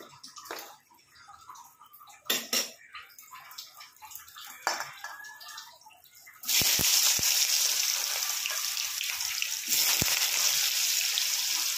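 Sliced ridge gourd dropped into hot oil with black cumin seeds in a wok, bursting into a loud, steady hiss and sizzle after some quieter clinks and rustles of preparation.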